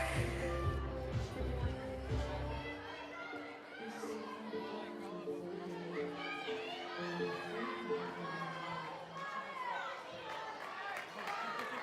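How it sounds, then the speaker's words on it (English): Teammates cheering on a gymnast at a women's NCAA college gymnastics meet, a steady wash of shouts and encouraging calls from a crowd of young women, lively and continuous throughout. "you can hear her teammates cheering her on."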